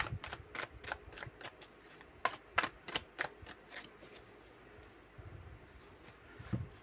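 Tarot cards being cut and shuffled in a series of crisp, rapid riffling bursts with short pauses between them, close and fairly loud, with no talking.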